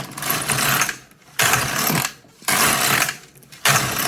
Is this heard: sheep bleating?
no